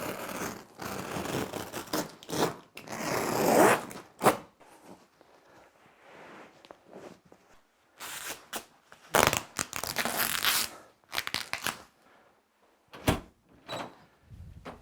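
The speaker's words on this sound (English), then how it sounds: "the best way to cut this stuff is either a hooked blade, or go on the back side and cut it from the back side." Carpet being cut with a hooked blade during removal for vinyl plank flooring, heard as irregular tearing and ripping bursts interrupted by quieter pauses, close by and with no talking.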